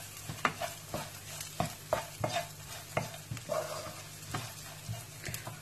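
A spoon stirs a seasoned rice mixture with black pepper in a pan for Lebanese rice, giving repeated rhythmic scrapes and taps over a low, quiet sizzle, with no voices.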